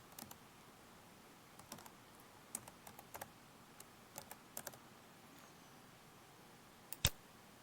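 Spreadsheet formula being typed on a computer keyboard: scattered, irregular soft key clicks at close range, ending in one sharper, louder keystroke near the end, with no talking.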